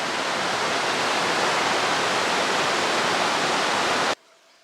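A river rushes beneath a bridge crossing on the Pacific Crest Trail at Fitzhugh Gulch, a loud, dense, steady roar of water that cuts off abruptly near the end.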